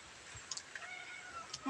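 A cat meows faintly in a rural Lao home during a meal of sticky rice, shrimp and snails, giving a few short, quiet cries against a soft background.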